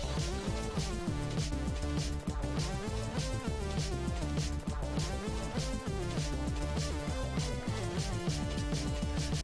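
Synth sawtooth-wave solo from the original track playing continuously over a full, dense arrangement, bright and buzzy with a steady driving rhythm, loud and without pauses.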